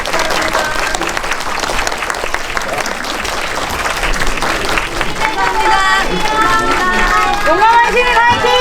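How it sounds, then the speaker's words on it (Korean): A cinema audience applauds as guests leave the stage after a special screening Q&A for the Korean film Brave Citizen, loud sustained clapping and crowd noise, with voices and cheering rising over it toward the end. "박수로 보내드리도록 하겠습니다"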